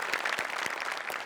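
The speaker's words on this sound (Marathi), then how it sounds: "जोरदार टाळ्या परफॉर्मन्ससाठी." Audience applause for a stage performance on a Marathi entertainment show, a short burst of clapping at moderate level with a few sharper individual claps standing out.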